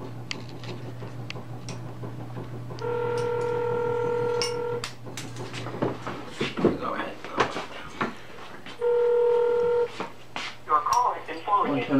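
Two long steady tone bursts from a telephone call ringing out in a workshop, heard under nearby talking, clatter and knocks.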